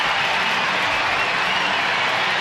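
A huge crowd at a Royals baseball stadium applauds a home win, a dense, continuous roar of clapping and cheering with no pause.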